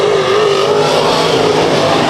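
Race cars roar at full throttle on a speedway restart, a loud, steady, dense engine drone sustained throughout with no pause.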